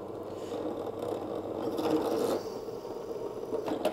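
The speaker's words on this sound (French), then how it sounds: "il perce plus rien mon forêt là" A worn drill bit grinds against thick metal in a 106 transmission tunnel build, giving a steady close scraping rasp that swells slightly in the middle and continues without speech.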